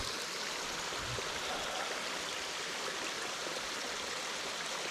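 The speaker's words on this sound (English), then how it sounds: "I literally could make a recording to this of the water and fall asleep to it." Flowing stream water in a forest: a steady, broadband rushing and trickling wash continues evenly throughout, close and fairly quiet, with no voices.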